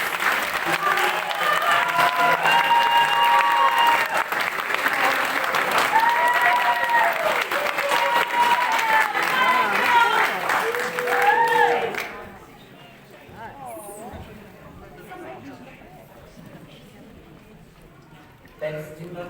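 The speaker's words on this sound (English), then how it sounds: "Can we please have a big round of applause for the graduates?" Loud, sustained applause from a graduation ceremony audience cheering graduates, steady clapping for about twelve seconds before dropping to a quieter room murmur.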